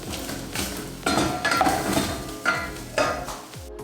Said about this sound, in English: So I'm now going to fry it. So I'm going to add some cooking oil.